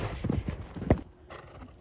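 A stallion's hooves clop in a quick uneven run, followed by a short whinny, then a quieter stretch with faint rustling and low background noise.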